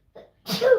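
A single sharp sneeze, close and fairly loud, preceded by a short faint intake of breath.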